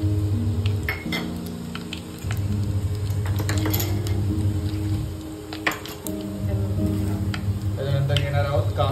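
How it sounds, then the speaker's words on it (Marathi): Cumin seeds hit two spoons of well-heated oil with curry leaves in a kadhai, setting off a steady sizzle with intermittent clinks and scrapes of a utensil against the pan. "तेल चांगलं उकळलेलं आहे आणि आपण टाकणार आहोत जिरे"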